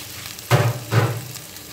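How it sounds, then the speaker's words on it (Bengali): Eggplant slices in a hot karai sizzle in two sharp bursts as pieces hit the oil, each settling into a softer crackle, close and fairly loud with no talking. "এই যে বেগুন ভাজা হবে,"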